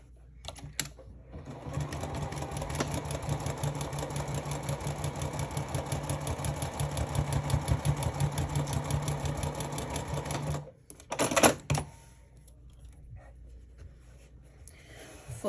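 A sewing machine stitching card slots onto a wallet pocket, a long steady run of rapid rhythmic needle clatter close by, then stopping with a few handling clicks and quiet afterward.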